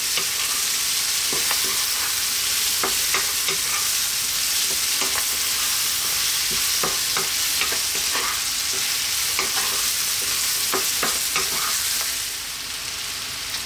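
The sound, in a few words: green beans and carrots frying and being stirred in pan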